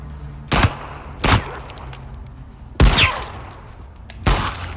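Four sharp gunshots from The Last of Us Part II ring out, spaced unevenly over a few seconds, loud and close with brief decaying tails over a quiet game background.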